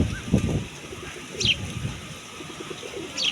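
Pigeons give a few low cooing calls, faint and somewhat distant, alongside occasional higher chirps from other birds.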